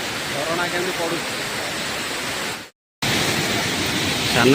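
The Sana Ghagara waterfall in Keonjhar, a continuous broadband roar of falling water close by, briefly cut out in the middle and then resuming at the same level.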